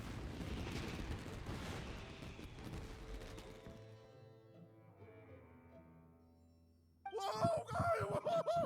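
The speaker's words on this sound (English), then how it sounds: "Euthymia, this is turning into a bit of a fireworks display." Fireworks in Genshin Impact go off in a long rumbling, crackling barrage that slowly fades to a quiet ringing tail, followed by a sudden burst of sparkling bangs and whistling bright tones near the end.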